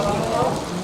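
Rain falls in a dense, even hiss at close range for a brief moment.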